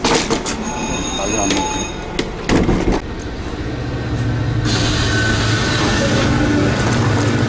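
A subway train rumbles steadily with a metallic hiss and occasional clunks, loud and close, while a voice speaks over it, on a line in South Korea heading to Hwaseo Station.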